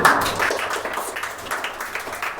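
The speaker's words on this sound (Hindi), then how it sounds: "जोरदार तालियां इसके लिए।" Classroom applause for a student during a maths lesson, a quick scattered burst of claps from a small group, moderately loud and fading unevenly.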